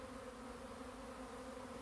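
Honeybees flying around a trap hive: a continuous, faint, steady buzzing of many insects, heard alone without talk.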